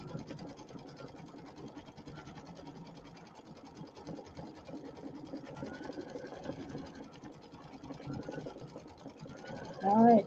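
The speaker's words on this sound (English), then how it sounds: "I think it's amazing how the machine decides how to sew it." An embroidery machine stitches a fall-themed pillow design, its steady rapid needle chatter running continuously at moderate level, with a louder burst at the very end.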